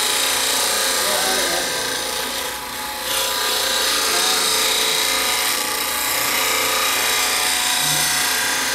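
High carbon steel woodturning tool ground at a sharpening grinder, throwing sparks; a steady, close, continuous abrasive rasp with broad hiss that holds at an even level throughout.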